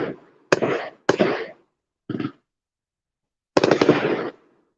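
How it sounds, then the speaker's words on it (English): Fireworks go off outdoors near a fishing spot, a series of sharp bursts and crackling volleys with gaps of silence between them, the last burst longest and loudest. "Now I was not aware that they was gonna have all these fireworks down here."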